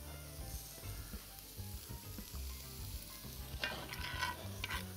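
Steak slices sizzling loudly in a hot pan as black pepper sauce is poured in, a dense crackling hiss that swells and spatters near the end, close and steady with no talking.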